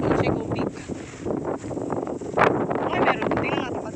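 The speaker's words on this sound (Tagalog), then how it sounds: "Ang lakas ng hangin dito sa taas." Strong wind on the exposed summit of Shek O Peak along the Dragon's Back trail buffets the microphone in loud, gusty bursts, with a rough, roaring rush that rises and falls over a few seconds.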